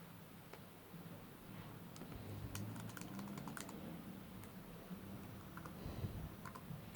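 Computer keyboard typing close up, with quick irregular key taps and a few sharper clicks over a soft steady background hiss.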